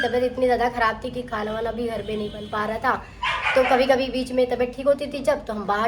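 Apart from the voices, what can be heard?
dogs barking outside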